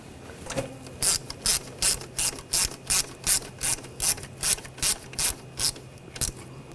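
A hand ratchet clicks steadily while snugging a bolt on a rear ABS wheel speed sensor of a 2014-2020 Nissan Rogue: about fifteen close, evenly spaced ratcheting strokes, loud and alone.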